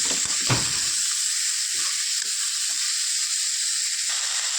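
Jackfruit curry frying in a pan with cumin, chillies and onion, giving a steady broadband sizzle throughout, with a few soft stirring clinks and scrapes near the start.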